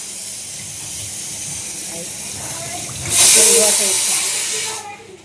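Raw chicken being rinsed under a running tap, a steady watery hiss that swells louder and closer partway through, with faint voices in the background.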